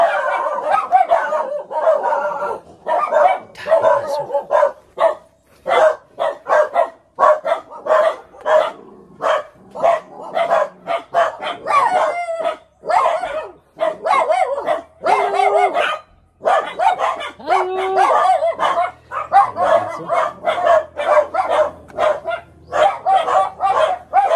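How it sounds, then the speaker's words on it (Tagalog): Several dogs bark repeatedly and excitedly, overlapping yaps and woofs in a noisy, uneven chorus close by. "Maingay, maraming aso."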